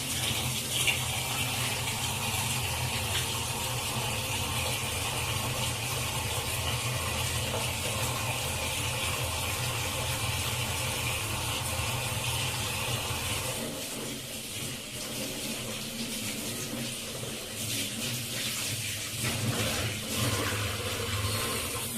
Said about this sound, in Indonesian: Kemudian saya akan mencuci tangan terlebih dahulu. Saya akan melakukan cuci tangan 7 langkah.